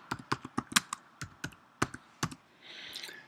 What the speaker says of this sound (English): I can type my new post.